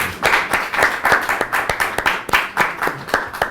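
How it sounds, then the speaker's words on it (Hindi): An audience claps in a lively, uneven rhythm, with sharp hand strikes repeating several times a second and no voices over it. "प्लीज़ एक बार अपने लिए प्लीज़ ताली बजा लीजिए"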